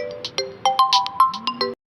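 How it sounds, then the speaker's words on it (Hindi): A mobile phone ringtone plays a bright, melodic sequence of short tonal notes for nearly two seconds, loud and close, then cuts off abruptly. "उनका फ़ोन रिंग करता है और वो कॉल रिसीव करते हैं"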